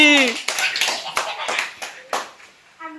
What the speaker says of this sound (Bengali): ও জোরে একটা হাততালি